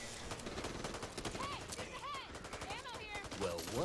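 Machine gun fire in Back 4 Blood, sounding as rapid, dense bursts of shots under voices and game noise, fairly quiet overall, with fire rolling steadily throughout.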